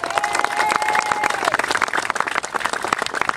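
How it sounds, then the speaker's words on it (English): An outdoor audience at a flag-raising ceremony at Stirling Bridge, Scotland, gives a dense, loud round of clapping that runs continuously from start to finish. "Let's give them a round of applause."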